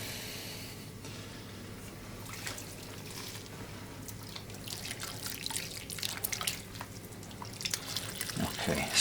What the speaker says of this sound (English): we'll turn this pump on again, and we'll give it a little bit of wash